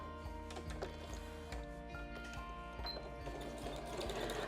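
Sewing machine stitching through fabric layered over Bosal foam to form quilted lines, a steady fast mechanical rattle of the needle with rhythmic thumps, close and continuous with no talk.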